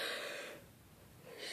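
A tired person's single breathy yawn, close and fairly quiet: a drawn-in breath that fades over about a second and a half.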